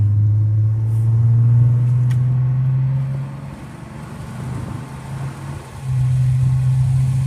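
A 1989 Toyota Cressida, long left sitting, being driven on a dusty scrapyard track, its steady low engine rumble loud and close, easing off midway before building again.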